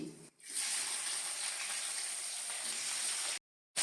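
Chopped onion hits hot oil with bay leaves, cinnamon and cracked cardamom for a duck curry, giving a loud, steady hiss that runs for several seconds, then cuts out briefly.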